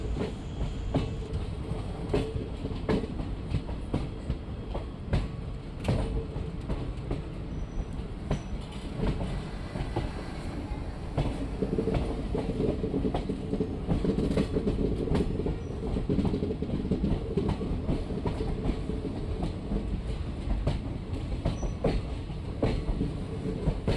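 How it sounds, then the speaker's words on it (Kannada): A DEMU train bound from Davanagere to Ballari passes through Vyasanakeri railway station with a loud, continuous rumble and rhythmic wheel clatter over the rails, holding steady throughout without any speech. "ಇಲ್ಲಿ ದಾವಣಗೆರೆಯಿಂದ ಬಳ್ಳಾರಿಗೆ ಹೋಗೋ ಡೆಮೋ ಟ್ರೈನ್ ಕ್ರಾಸಿಂಗ್ ಆಗಬೇಕು"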